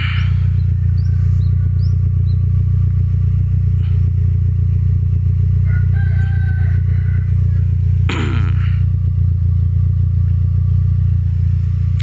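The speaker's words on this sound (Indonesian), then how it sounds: "kalau bunyi knalpot seperti ini, dia tidak merebet, itu berarti mesinnya tidak pincang" A used car idles with a steady low rumble from its exhaust, running evenly without sputtering or misfiring, close to the tailpipe with a brief clatter near the end.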